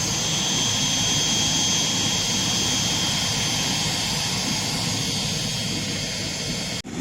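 A General Electric jet engine on a Boeing 777-300ER airliner gives a steady, loud whine and roar for several seconds, with a high tone over a broad rushing hiss, and no voices.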